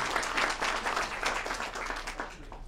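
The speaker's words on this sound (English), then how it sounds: "Let's give Ruben another round of applause" A meeting audience gives another round of applause for Ruben, the outgoing RAC president; moderate clapping with individual claps standing out in an uneven, pulsing rhythm, fairly close and without speech.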